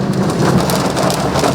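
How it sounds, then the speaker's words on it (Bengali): Heavy downpour over Kolkata, a dense steady roar of rain filling the whole stretch, loud and close with no voices. "তার কিছুক্ষণের মধ্যেই একেবারে ঝমঝমিয়ে বৃষ্টি।"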